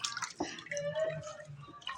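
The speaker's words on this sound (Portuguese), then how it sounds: "Vou botar água agora." Water poured while a marinade is prepared, a thin trickling, dripping stream over quiet background clatter, fairly close and soft.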